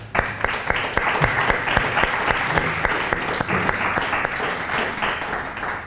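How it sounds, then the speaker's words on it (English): An audience applauds guest speakers at a panel discussion on judging war crimes, with steady, dense clapping sustained throughout and a few sharper individual claps standing out near the front. "So please, first, a round of applause for our guests."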